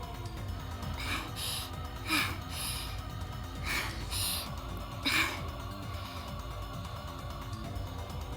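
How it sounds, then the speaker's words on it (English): A girl in a visual novel game pants heavily after running, a string of quick gasping breaths at irregular intervals over a steady background hum. "From the sound of her breathing, she must be at her limit."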